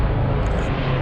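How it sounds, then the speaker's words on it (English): Helicopter passing overhead above a Sydney street in The Rocks, a steady, loud rotor-and-engine roar that fills the whole moment with no voices. "a helicopter right there."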